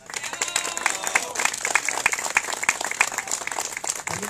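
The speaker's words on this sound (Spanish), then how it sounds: "Vamos a darle un fuerte aplauso a nuestro presidente municipal" At a road inauguration ceremony in Iguala, Guerrero, the crowd applauds the municipal president with lively, uneven clapping, sharp individual claps standing out over the steady patter, with some voices mixed in.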